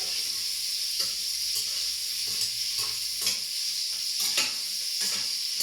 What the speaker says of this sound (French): je remue sans arrêt, il ne faut pas que ça colle